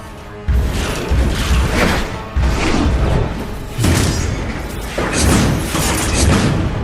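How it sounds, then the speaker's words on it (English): Heavy anchors fire and slam into a ship's hull during an anime sea battle, delivering repeated loud booming crashes and metallic impacts, about five big hits in a steady sequence. "They're firing anchors!"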